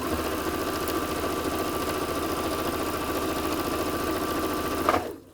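Singer Quantum Stylist 9960 sewing machine stitching at top speed through eight layers of cotton with a size 90/14 general purpose needle, a steady fast whirring mechanical hum that runs close and continuous before stopping abruptly.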